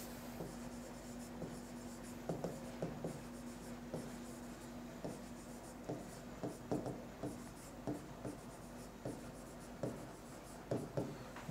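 A pen scratching out a calculation by hand on paper, with short rhythmic strokes repeating steadily against a faint background hum and no voices.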